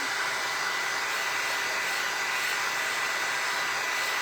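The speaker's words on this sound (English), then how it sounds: "If it gets too tight on there, just take your heat gun." A heat gun blows steadily to soften chalk paint on a thrifted piece, a constant, close, even hiss of rushing air with no breaks or talking.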